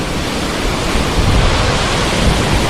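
Waterfall at a hidden spot in Kottayam, Kerala, pouring as a steady, dense roar of rushing water that fills the whole clip, close and loud with no voices.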